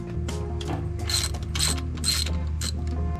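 Ratchet wrench clicking as it backs out the bolts holding down the water pump housing on a Suzuki outboard lower unit, loud close bursts of rapid pawl clicks in several runs, with no talking.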